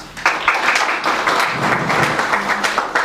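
Audience applause at a financial services presentation, with brisk, dense clapping from a room of people that stays steady and fairly close for about three seconds.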